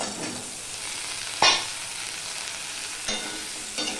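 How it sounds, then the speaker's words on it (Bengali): Potato pieces fry in hot oil in a pan with browned onions while an Ilish fish curry is being cooked, giving a continuous soft sizzle broken by a few sharp utensil clacks. "দিয়ে আলুটাকেও আমি ভেজে নেব।"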